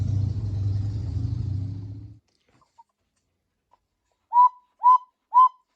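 A repaired quail cuckoo clock's bellows sound three short, clear hooting notes in even succession, close by, after a low rumbling noise fades to silence.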